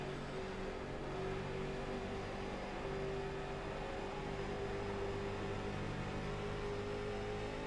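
Stock race cars roaring in iRacing at Dover, a dense steady broadband engine drone from a pack of cars, continuous and unbroken, with no speech.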